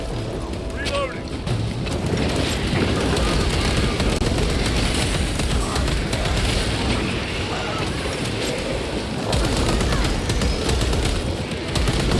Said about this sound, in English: peppering me with so much gunfire